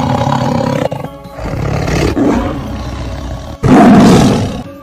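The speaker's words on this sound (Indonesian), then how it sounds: "dilihatnya dua ekor harimau menggeram siap menerkamnya" Two tigers growl and roar in a dramatized jungle scene, heavy rumbling snarls in several loud bursts separated by brief gaps, the last roar the strongest.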